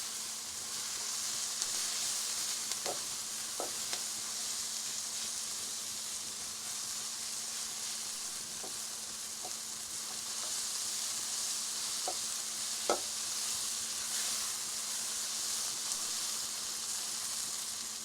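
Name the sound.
onion and dry spices frying in a pan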